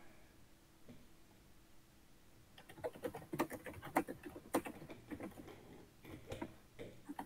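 Rapid clicking of a computer keyboard during an Age of Empires III match, quiet at first and then bursting into dense, uneven clatters of keystrokes, fairly close with no voices.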